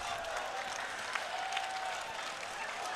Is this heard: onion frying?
no